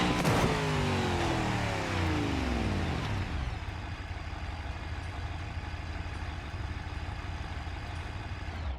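A car engine revs hard and rough at the start, its pitch sweeping downward as it winds back over about three seconds, then settles into an uneven, unhealthy-sounding idle that drones on alone.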